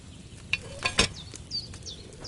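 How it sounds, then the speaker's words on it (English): A wine potion simmers in a cauldron over a flame in Kingdom Come Deliverance 2, with soft sizzling and a few sharp clinks and pops over a quiet background, plus faint chirps later on. "Hear that bubbling? It's boiling."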